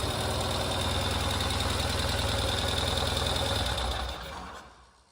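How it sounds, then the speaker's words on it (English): Ural motorcycle engine, a 2023 Gear Up, idling steadily in neutral with a dense, even rumble close by, then fading out over the last second; no talking. "Amazing performance from the engine."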